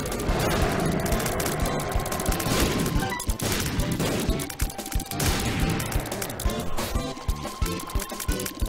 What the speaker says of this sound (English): I'll just keep shooting. Since I can just delete his bullets with my endless stream of shots.